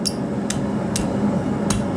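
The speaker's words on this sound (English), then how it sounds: "we're gonna hammer back towards ourselves" Four sharp hammer blows ring out on a steel hook being forged, spaced about half a second apart, over a steady low rumble of background noise.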